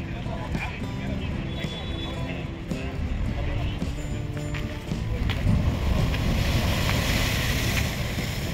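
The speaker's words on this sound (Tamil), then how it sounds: "அப்படி நம்ம பீச் பக்கத்தில் வந்துட்டோம்." Sea waves wash onto a beach in the Maldives beside rock breakwaters near a large mosque, a steady broadband surf and wind wash filling the scene, with someone talking over it throughout.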